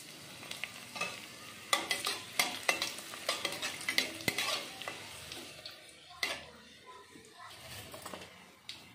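Dried red chillies frying in oil for tempering gongura, a faint low sizzle broken by repeated clinks and scrapes of a spoon against the pan in an uneven rhythm.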